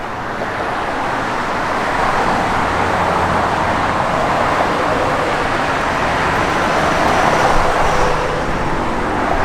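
A 1940 Ford F1 patina truck cruises along the road, giving off a steady, broad roar of road and wind noise at an even level with no voices.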